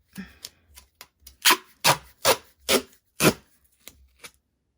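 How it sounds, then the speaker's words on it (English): Duct tape pulled off the roll and pressed along a homemade bubble mailer, a run of sharp ripping and rubbing bursts, close and moderately loud, with quieter taps and brushes between them and no talk. "So basically you're just going to tape along."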